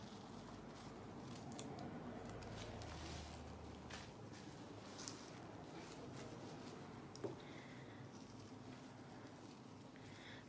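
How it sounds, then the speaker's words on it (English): Scissors cut the corners off a folded plastic trash bag during a jellyfish craft, giving faint, soft snips in a quiet room with no talking. "Cutting off the corners here."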